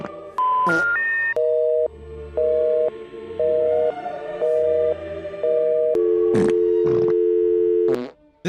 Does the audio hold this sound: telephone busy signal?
yes